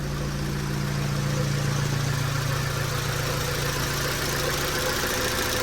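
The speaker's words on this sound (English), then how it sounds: "D16 turbo, I believe, Richard." A turbocharged Honda D16 engine runs on a rolling road dyno at a car meet, giving a steady, even drone with a constant low hum and no rev changes or voices.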